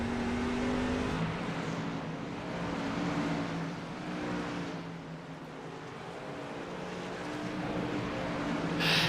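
Truck racing engines roar around the Lucas Oil IRP oval during a Stars & Stripes Truck Series race, a loud continuous drone with rising and falling pitch as trucks pass.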